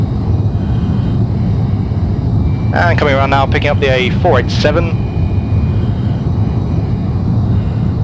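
An F-4J Phantom II jet flies low through the Mach Loop valleys in Microsoft Flight Simulator, giving a loud, steady engine roar throughout, with someone talking briefly over it midway.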